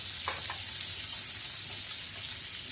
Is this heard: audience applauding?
no